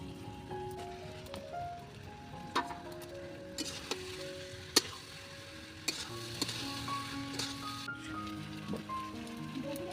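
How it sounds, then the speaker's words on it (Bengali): Boiled dried peas fry with egg curry masala in a pan, a soft, continuous sizzle with intermittent stirring scrapes and clinks, heard under quiet background music. "তরকাটা দিয়ে আর একটু সামান্য কিছুক্ষণ কষিয়ে নেব"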